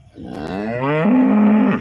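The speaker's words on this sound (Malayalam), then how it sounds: "ഇത് നമ്മുടെ റാന്നീല ഫാമിലേക്ക് എടുത്തിട്ടുള്ള വലിയ പശുവാണ്" A large, heavy cow on a farm, not yet calved and due within about ten days, gives one long, loud, close moo that rises and then holds steady for nearly two seconds, with no other sound around it.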